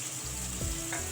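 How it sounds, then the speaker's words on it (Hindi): Masala spices and onion fry in a karahi pan for a kabab karahi dish, giving a brief, close, steady sizzle with a soft stirring scrape partway through. "मसाला हमारा अच्छे से भुन रहा है।"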